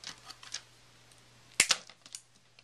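Scissors snipping small gold Prima holly berries off a craft embellishment: a couple of sharp, close snips in quick succession, with a few fainter clicks and rustles around them in an otherwise quiet room.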